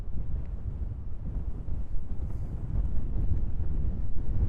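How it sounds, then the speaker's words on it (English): Wind buffeting an outdoor microphone at a lakeside spot at Lake Louisville, a steady, loud low rumble that swells slightly toward the end, with no speech over it. "Now I'm starting to feel the wind."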